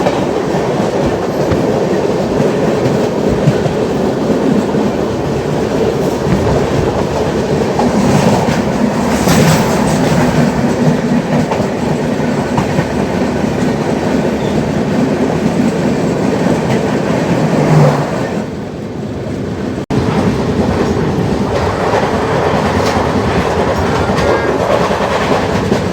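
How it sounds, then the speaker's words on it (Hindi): The Konark Express runs loud and steady on the rails, with continuous wheel rumble and clickety-clack and a swell as a passing express rushes by. "सामने से आ रही है खासनगर सुपरफास्ट एक्सप्रेस।"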